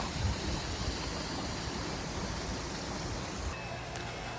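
Steady broadband rush of a mountain stream running over rocks in a valley, continuous and even throughout with no voices.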